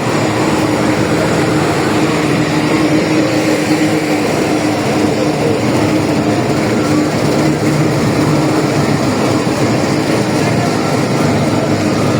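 The Pak Business Express train rolls along on its inaugural run, a loud, steady rumble of wheels and carriages that holds constant throughout, with no voices.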